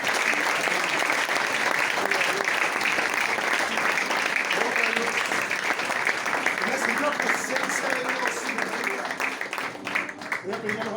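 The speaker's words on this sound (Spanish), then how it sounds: "Dale un aplauso al Señor porque Él está en este lugar." Loud, sustained applause from a large church congregation, dense clapping that continues without a break and eases slightly near the end.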